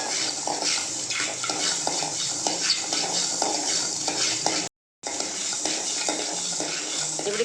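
A ladle stirs sambar spices as they dry-roast in a pan, making rhythmic scraping strokes over a soft, grainy sizzle, with a short gap of silence near the end.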